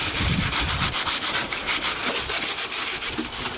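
A brush scrubbing a greasy car engine bay under the hood: rapid, rhythmic rasping strokes, close and continuous, with no talk.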